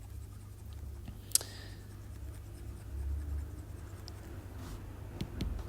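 Faint scratching strokes of writing on a board in a classroom. One sharp tap stands out early, then the quiet strokes continue close by.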